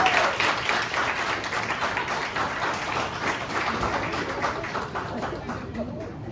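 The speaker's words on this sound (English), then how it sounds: "So let's start with a big round of applause for Harsha Bhogle." An audience claps for Harsha Bhogle at a corporate Red Talks event, a thick burst of applause that starts loud and slowly thins out over several seconds.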